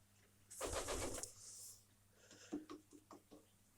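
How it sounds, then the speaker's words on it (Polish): Pigeons stir inside a loft: a burst of wing flapping and scrabbling up close, followed by a few soft short calls and shuffles, with no one speaking. "To są gołębie takie miłe"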